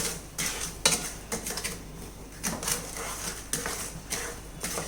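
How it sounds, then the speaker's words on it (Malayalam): Sugar stirred in a pan to dissolve for raw mango candy: soft, irregular scraping and clinks of a utensil against the pan, fairly faint and close, with no talk. "ഇത് മുഴുവൻ നമുക്കൊന്ന് ഇളക്കി അലിയിച്ചെടുക്കാം."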